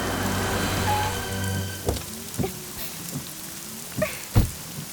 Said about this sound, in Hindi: मैडम बारिश हो रही है, बैठो।